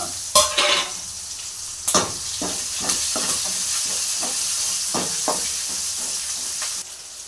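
Leafy greens sauté in a pan for a mixed-greens curry, with a continuous sizzle and repeated sharp spatula strokes in an uneven rhythm, close up and with no talking.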